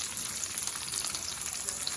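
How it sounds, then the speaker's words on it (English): Bacon sizzles and crackles steadily on a hot Blackstone 17-inch griddle, a close, constant hiss with tiny pops throughout. "The sound of bacon frying."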